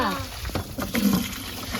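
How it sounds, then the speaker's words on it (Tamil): Water flows slowly at a home during the Bhogi festival, a faint trickle with soft splashing and bursts under background noise. "தண்ணி கொஞ்சம் கொஞ்சமா வருது"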